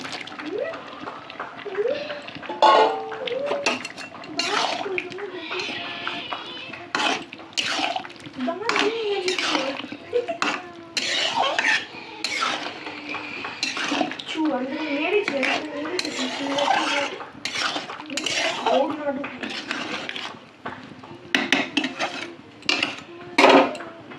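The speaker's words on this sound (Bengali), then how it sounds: "এবার আমি দিয়ে দেবো এই সেদ্ধ এঁচোড়গুলো" Boiled jackfruit and potatoes are stirred in a pan, giving repeated close scraping and clanking of a utensil against metal throughout, with voices talking in the background.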